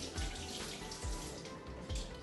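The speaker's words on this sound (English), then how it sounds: "I put hot water inside. So boiled hot water." Boiled hot water pours into a pot of rice in a home kitchen, a steady, fairly quiet gushing stream with soft low thumps recurring about once a second.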